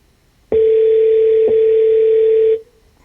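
A phone call rings through the hands-free system of a car stereo in a 1965 Mustang, heard as a loud, steady electronic tone that runs for about two seconds with a brief click partway through and then stops.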